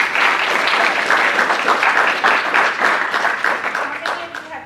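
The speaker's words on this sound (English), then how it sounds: "Give yourselves a round of applause." A room of workshop attendees at a college student leadership academy applauds, dense and even clapping, loud and close, holding steady and then thinning slightly toward the end.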